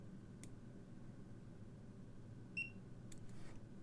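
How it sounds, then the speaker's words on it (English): Short, faint electronic beep from a Hioki CM4375-50 industrial clamp meter signalling auto-hold, a single tone against quiet background hiss with a few soft clicks around it. "it triggers hold with audible beep indication"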